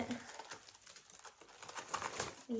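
Packaging crinkles and rustles as a box of ordered items is unboxed, close and fairly quiet, with light tapping handling noises scattered throughout.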